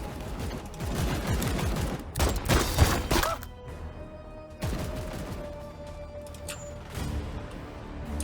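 Extus pistol shots in the Warhammer 40,000: Chaos Gate – Daemonhunters strategy game, a fusillade of loud close reports packed into the first few seconds, then a quieter heavy impact and fading ambient hum.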